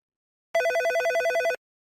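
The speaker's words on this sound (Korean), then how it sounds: "한 번호로 전화를 걸었습니다" A mobile phone call rings out after a number is dialed, giving one short burst of rapid electronic trills lasting about a second, clear and alone, with silence before and after.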